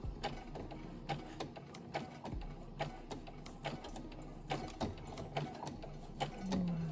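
A sewing machine runs slowly while stitching a zipper onto a wax-print fabric cushion cover, giving a series of distinct, evenly spaced needle thumps and clicks, close and alone, with a brief whir near the end.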